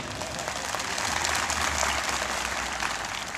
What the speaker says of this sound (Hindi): मंच पर बैठे लोग भी ताली बजा सकते हैं